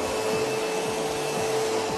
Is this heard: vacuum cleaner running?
yes